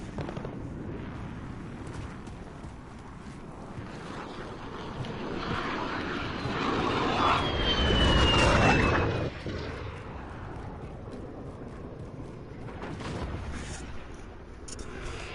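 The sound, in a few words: enemy VTOL jet flying overhead in Modern Warfare video game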